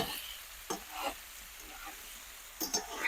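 Homestyle potatoes fry in a wide pan with a soft, close sizzle, broken by a few brief bursts of stirring and clattering, quiet overall with no talking.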